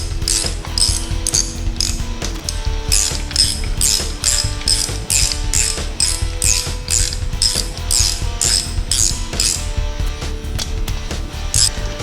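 A hand ratchet snugs down the cylinder head bolts on a 1974 Chevy 350 engine, giving loud, close, rapid clicking in quick repeated bursts that sounds alone.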